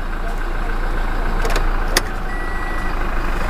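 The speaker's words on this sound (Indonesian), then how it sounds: "Saat kita mematikan kendaraan, mesin dari kendaraan akan tetap menyala." Toyota car engine idling on after switch-off under a turbo timer, a steady low hum with a few brief higher electronic tones and clicks, close and continuous.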